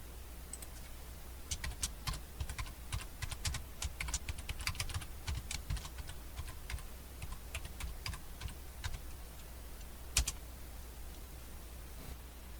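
Fingers tap on a computer keyboard in a quiet room, a soft irregular patter of keystrokes with a faint low hum beneath and one sharper click near the end.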